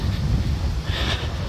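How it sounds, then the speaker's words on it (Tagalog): Strong wind buffets the microphone with a loud, continuous low rumble and gusty roar that swells briefly near the end of the short stretch. "Sobrang mahangin ngayon."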